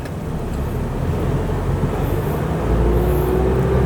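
Isuzu D-Max 3.0 DDI VGS diesel pickup with automatic gearbox, 2013, pulling away after the gear is released, a steady loud engine and road rumble building slightly toward the end, with no speech.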